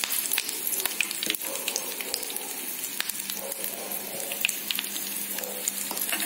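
Curry leaves and dried red chillies sizzle steadily in hot oil for lemon rice, a close, continuous frying crackle with scattered sharper pops and no talking.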